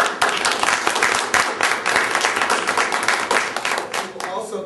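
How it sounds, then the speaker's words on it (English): Round of applause for club members at a club officer report meeting, a broad steady patter of many hands clapping through the whole stretch, fairly close and loud, tapering slightly at the end. "So I'd like to also give our members a great round of applause."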